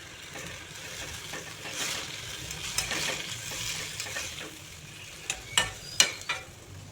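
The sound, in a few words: poppy seed paste frying with ridge gourd in a pan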